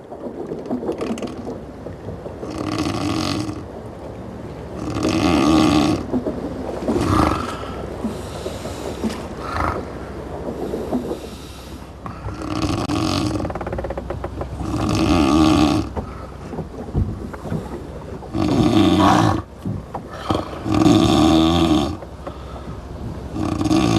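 Crew members of a replica ship sleep in hammocks only inches apart, their loud, rasping snores coming in regular bursts every few seconds over a low creaking background.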